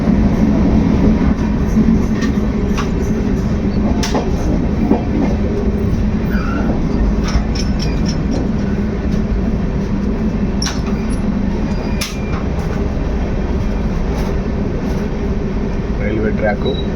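The Andaman Express runs along the railway track at dawn with a loud, steady rumble and scattered wheel clicks and clanks that carry on throughout.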